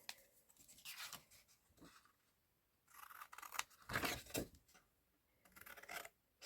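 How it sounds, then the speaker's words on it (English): Scissors snip away the corners of a paper gift box template, with sharp close cutting strokes in short bursts separated by quiet pauses and no talk over them. "you need to cut away these 4 corners, which have got 2 little panels in each"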